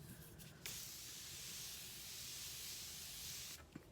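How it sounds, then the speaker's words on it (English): A steady hiss of Morphe Continuous Setting Spray mist, released in one continuous burst of about three seconds, close and fairly quiet. "So I'm going to use the last of the Continuous Setting Spray in Sweet Peach by Morphe."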